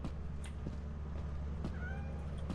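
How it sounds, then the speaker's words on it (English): A cat meows inside a video game, a few faint, short mewing calls over a low, steady background hum, distant and quiet. "I can hear the cat."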